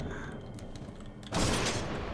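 An explosion in the video game Painkiller: Resurrection erupts about halfway through, a sudden loud burst that follows quieter game ambience with faint clanks and then holds as a sustained rumbling blast.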